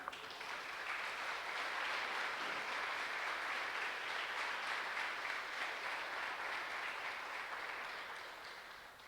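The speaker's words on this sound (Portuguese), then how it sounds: "Você crê assim, aplauda Jesus." A church congregation applauds continuously, a dense steady wash of clapping at full strength that fades slightly toward the end, with no voices over it.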